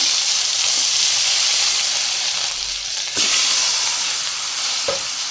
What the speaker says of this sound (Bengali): এই আলুগুলো আমি কষে নিই ভালো করে